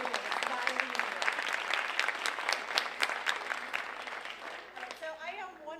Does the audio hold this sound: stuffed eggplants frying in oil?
no